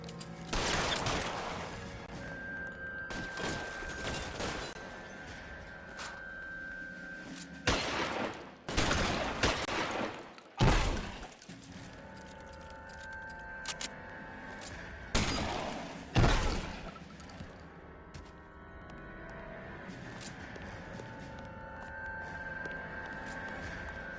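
Shootout gunfire in the video game L.A. Noire, with scattered loud sharp shots and bursts separated by quieter stretches of ambient tone, several clustered volleys standing out.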